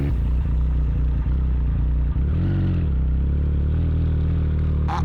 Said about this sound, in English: we're at the point where we do a U-turn and see how it does.